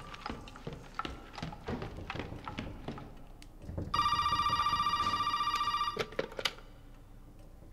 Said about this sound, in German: das Telefon klingelt schon wieder